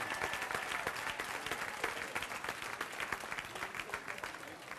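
Applause from an audience at a formal program, honouring a TV1 host: a fairly soft, steady patter of many hands clapping, with distinct individual claps standing out throughout.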